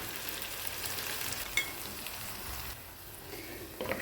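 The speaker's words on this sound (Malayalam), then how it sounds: "ഇനി ഇതിലേക്ക് നേരത്തെ മാറ്റി വെച്ചിരിക്കുന്ന ചിക്കന് മസാല പുരട്ടിയത് ഇതിലേക്ക് ഇട്ട് കൊടുക്കാം" Masala-coated chicken frying in a pan for Hyderabadi chicken curry, a steady close sizzle and crackle with a few stirring clinks, no talking.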